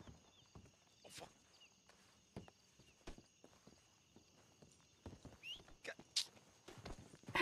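Video game horse hooves clop in an uneven walking rhythm, fairly quiet, with scattered thuds and a few short neigh-like calls mixed in; a voice speaks over it.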